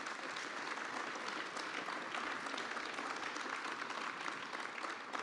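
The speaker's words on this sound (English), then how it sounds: "a round of applause" Steady applause from an indoor crowd at a 2019 UK general election count, thanking the count and security staff; dense, continuous clapping holds an even level throughout with no voices standing out.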